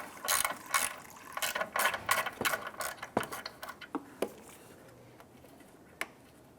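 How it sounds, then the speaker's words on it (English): Ratchet with a deep socket loosening a 10mm nut on a 2008-2013 Nissan Rogue during windshield washer reservoir replacement, several quick bursts of close, crisp clicking that slow into spaced single clicks and then stop. "I'm going to go ahead and use my deep socket and my ratchet."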